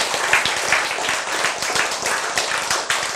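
Audience at a Korean lecture on healthy-eating principles breaking into clapping, a dense, moderately loud patter of many hands with regular accented beats, continuing for a few seconds without speech.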